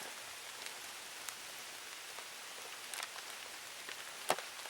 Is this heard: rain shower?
yes